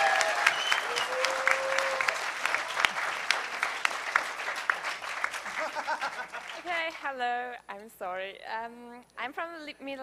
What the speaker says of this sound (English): Let's give a huge round of applause for the Meta Lab for getting that going.